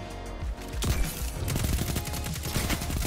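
Rapid auto rifle fire in a video game, a dense burst of close shots rattling in quick succession over a noisy background, loud and sustained.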